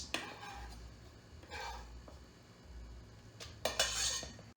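Chopped spinach is scraped into a bowl for spinach and ricotta gnocchi, making faint scraping and clinking of utensil against the dish in a few separate bursts, with a sharper clatter near the end.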